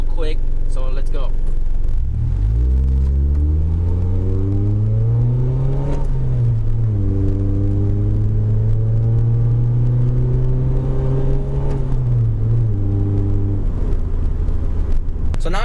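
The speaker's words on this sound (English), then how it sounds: "Let go of the gas, shift to the third, give it gas again." An automatic car accelerates hard from near idle, the engine note climbing steeply, dropping at each upshift and climbing again through several gears, loud and close with a voice speaking over it.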